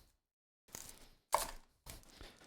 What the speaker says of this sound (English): You're going to cut this onion in half.